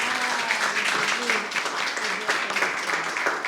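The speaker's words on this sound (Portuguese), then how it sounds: "Uma salva de palmas para essa mulher maravilhosa" Audience applause welcoming a woman guest onto a spirituality talk stage, a dense continuous patter of many hands with voices mixed in underneath.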